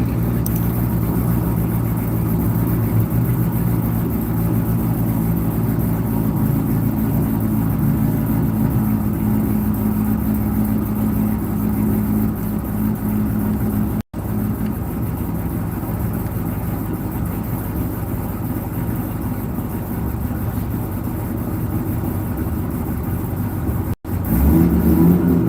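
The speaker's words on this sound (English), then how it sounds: "Listen to my exhaust." A car engine at Seattle International Raceway rumbles low and steady with a throaty exhaust drone, holding a constant idle-like tone across the stretch, with two brief dropouts.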